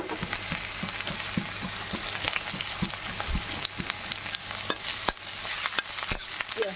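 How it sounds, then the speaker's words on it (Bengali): Onions fry in a pan with a continuous crackling sizzle and frequent sharp stirring clicks and scrapes, close and fairly quiet, with no talk. "পেঁয়াজটাকে এখন ভাজা ভাজা করে নিচ্ছি ভালো করে।"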